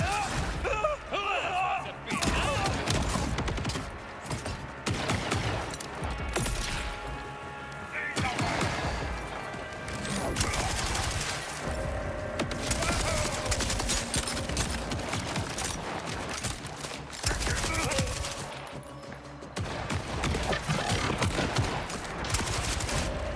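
Video game combat full of rapid gunfire bursts and heavy grenade blasts, loud and nearly continuous, with a voice talking now and then over the shooting.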